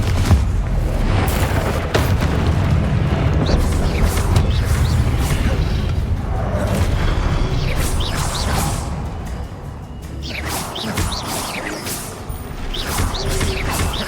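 Continuous loud magical blasts and booming impacts from the Confringo spell in the video game Hogwarts Legacy, dense crashes and whooshes layered over heavy rumbling combat noise with no clear pauses.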